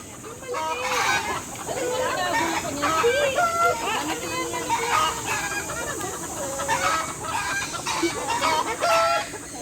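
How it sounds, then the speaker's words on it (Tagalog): Chickens cluck busily and repeatedly at a zoo in Manila, with occasional higher calls, over a continuous background hum. "May manok."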